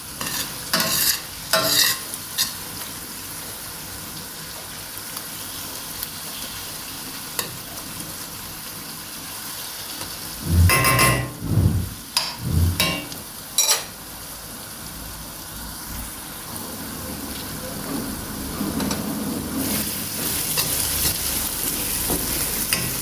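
Onions and tomato paste sauce fry in a pan with a steady sizzle while a spoon stirs and scrapes through them in bursts, the scraping loudest midway, then the frying continues alone.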